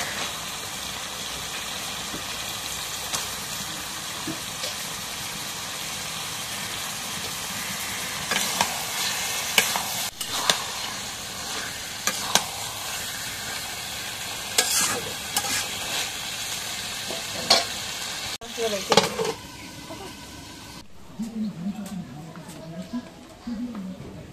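Meat frying in a pan with garlic paste, sizzling steadily while a utensil stirs and scrapes in irregular bursts, under a constant background hum.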